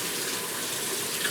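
Tap water runs in a steady broadband wash as items are rinsed one by one at a sink, a continuous close stream with no talking.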